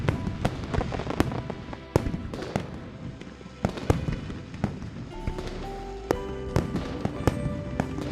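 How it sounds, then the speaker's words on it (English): Fireworks from the video game Love and Deepspace, bursting over city streets at night: repeated sharp cracks and booms with crackling trails, dense and continuous throughout, with a faint musical tone rising in the background toward the end. "Ideally, we're accompanied by fireworks lighting up boundless streets, and they burn throughout the entire night."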